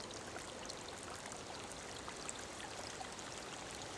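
Steady flowing water from a sound library sample, a continuous broadband stream-like rush with no pauses or voices.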